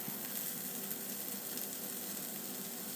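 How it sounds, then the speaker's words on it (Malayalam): Chopped tomato with salt sautéing in a pan, a steady soft sizzle at low level with no talk, the hiss continuing evenly throughout. "ഉപ്പ് ചേർത്തതിന് ശേഷം നല്ലതുപോലെ വഴറ്റി തക്കാളിയൊക്കെ നല്ല സോഫ്റ്റ് ആവുന്നത് വരെ കുക്ക് ചെയ്യാം"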